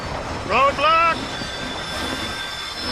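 A train from Red Dead Redemption: Undead Nightmare rolls along the tracks with a steady, even rumble, and a brief voice cuts in near the start.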